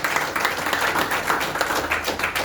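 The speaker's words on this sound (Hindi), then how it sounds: "एक जोरदार तालियां बजाइए यार।" Crowd of listeners clapping at a business presentation, a dense, steady patter of many hands that holds at an even level for the whole stretch without a break.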